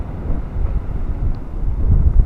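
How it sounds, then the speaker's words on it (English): Strong wind during Hurricane Dorian buffets a microphone outdoors, a loud, low, continuous roaring rumble that surges and eases without pause. "We're heading out in the middle of a hurricane, Hurricane Dorian"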